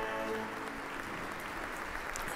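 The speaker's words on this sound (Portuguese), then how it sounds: "O Santo Padre recebe o aplauso dos fiéis" Congregation applauding Pope Leo XIV at his installation Mass on the Roman cathedra, a brief, soft, distant patter of clapping filling a large church.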